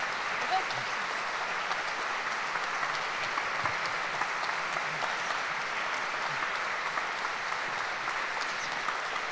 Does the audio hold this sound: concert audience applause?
yes